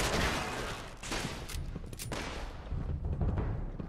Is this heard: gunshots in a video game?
yes